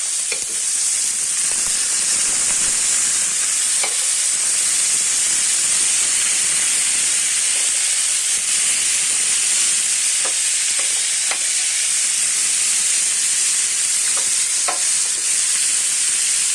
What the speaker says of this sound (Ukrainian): Підсмажуємо